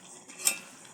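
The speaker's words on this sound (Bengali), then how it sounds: "আরও কিছুক্ষণ নাড়িয়ে নিলাম" Chicken bhuna masala is stirred in a pan for a brief moment: a soft, close scrape of the spoon against the pan over a light sizzle, with one sharper metallic touch in the middle and no talking.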